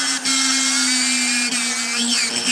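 A Dremel rotary tool spinning a burr into wood while carving a small gnome house, giving a constant high-pitched whine with a steady tone, close and loud, dipping briefly as the bit bites into the wood.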